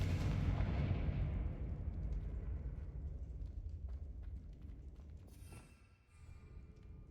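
Confringo blasting spell in a Harry Potter video game, a heavy booming explosion that rumbles loud at the start and slowly decays into a long low roar with faint crackling debris.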